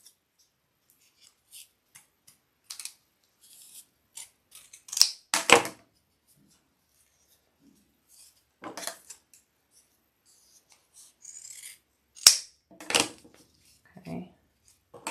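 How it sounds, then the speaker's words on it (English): Scissors snip through bag fabric while the zipper is held aside, giving scattered crisp cuts and rustles with quiet gaps between them, close and fairly loud. "I'm holding the zipper down and out of my way as I cut."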